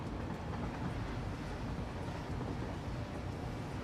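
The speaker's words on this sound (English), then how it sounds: "The trains are stupid loud." Loud, continuous rumbling roar of trains in the factory-building game Satisfactory, a dense steady rolling noise with no breaks or voices.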